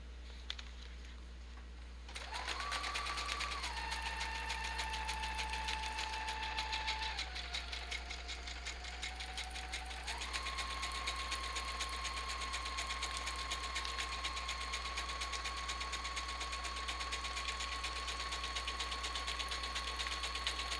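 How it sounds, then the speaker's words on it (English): A sewing machine stitches a zigzag seam through paper for a junk journal, a steady close mechanical whir that starts after two seconds of quiet and shifts pitch and speed a few times while running continuously. "I think I'm going to try a zigzag stitch"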